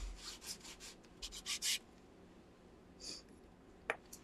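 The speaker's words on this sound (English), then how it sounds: "I'm going to go ahead and rub that blue all around" Repeated short rubbing strokes of blue paint being worked over a foam craft piece, a quick burst of scrubbing bursts early, then a few softer strokes later, quiet and close with no talk.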